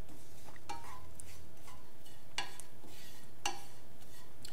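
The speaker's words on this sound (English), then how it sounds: "our almonds are pretty much toasted" Almonds toasting in a pan, a faint steady sizzle broken by a few sharp scrapes and clinks of a utensil stirring against the pan.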